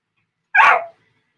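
A single dog barks once, close and loud, a short sharp bark that stands alone against an otherwise silent background.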